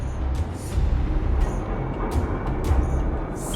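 A Fragmentum monster in the game Honkai: Star Rail gives off a steady, static-like roar of rumbling white noise with faint high crackles flickering through it, moderately quiet, with no voices.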